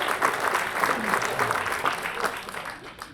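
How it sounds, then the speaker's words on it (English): Luncheon audience clapping in a banquet room, a steady wash of many hands at moderate loudness with a faint voice underneath, continuing evenly throughout. "Curious to why you guys are clapping."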